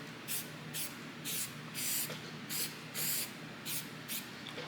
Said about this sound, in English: I swear aerosol saves a lot of time.